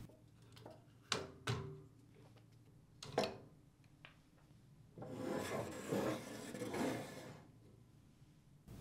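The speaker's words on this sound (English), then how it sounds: "To separate the adjuster cover from the housing, pry on both sides using a flat-headed screwdriver." A flat-headed screwdriver prying an adjuster cover off a Whirlpool, Maytag or KitchenAid dishwasher rack housing: several sharp plastic clicks and scrapes in the first few seconds, then a longer stretch of rubbing and rasping, close and fairly quiet.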